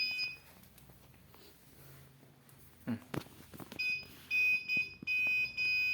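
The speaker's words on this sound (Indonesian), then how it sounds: "karena saya di depan dari alat ini, maka akan terdeteksi bunyi buzzernya" Electronic buzzer on a sensor-based smart safe project sounds as several short steady high beeps near the end, following quiet handling noises and clicks, close by.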